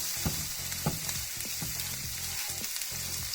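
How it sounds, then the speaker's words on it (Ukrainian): Onion fries in melted butter in a frying pan, giving a steady, close sizzle with a few soft stirring clicks and scrapes and no voices. "Масло вже розтопилося, додаємо сюди цибулю."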